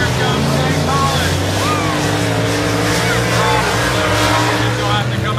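Open wheel modified race cars roar around Dothan Motor Speedway under a green flag, a loud, continuous engine drone with shifting pitch as the pack passes, while an announcer talks over the noise.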